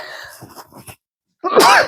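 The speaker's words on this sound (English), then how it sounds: "I'm going to sneeze a lot probably" A single sharp sneeze bursts out near the end, following a short stretch of soft breathy sounds and a brief silence.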